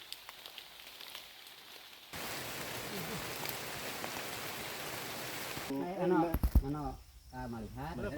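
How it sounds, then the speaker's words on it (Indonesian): Dense, hissing downpour in a bamboo forest on a mountain trail in South Kalimantan starts abruptly and holds steady, then gives way to close voices talking over a softer patter. "hujan terus turun dengan deras"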